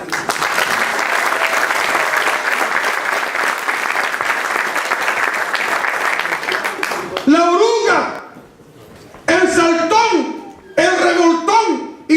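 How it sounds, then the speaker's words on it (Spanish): A church congregation breaks into a sustained, dense round of applause lasting several seconds, loud and close, before it stops and a voice speaks over scattered remaining sound. "Dale un aplauso."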